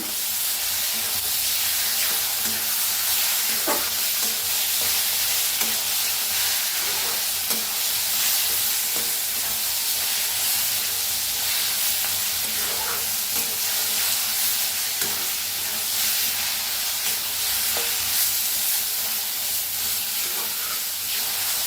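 A coarse chilli thecha mixture with salt is stir-roasted in a pan, making a loud, continuous sizzling hiss with steam, broken by occasional scrapes and taps of a spatula over about twenty seconds.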